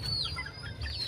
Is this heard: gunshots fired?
no